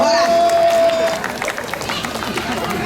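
Crowd applause at a church-district family fun walk in Jakarta, a dense steady patter of many hands under a loud announcer's voice and crowd noise.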